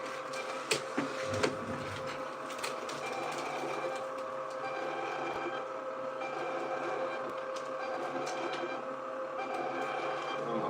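A printer runs continuously through a print job, with a steady mechanical whir and rapid clicking, plus a few sharper knocks early on, and no talking.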